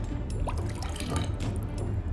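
A target is drowned in toilet water in the Hitman 2 video game, with close splashing and sloshing water, gurgling and dripping over a low rumble for a couple of seconds.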